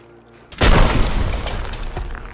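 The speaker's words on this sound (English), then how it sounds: "Nerve shatter strikes true." In the Skyrim Isles of Madness, the Nerve Shatter spell is cast: after near silence, one sudden loud shattering blast breaks out and settles into a rumbling, crackling wash that slowly fades.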